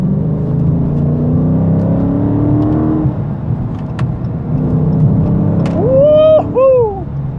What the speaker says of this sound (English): You hit the gas and you hear the noise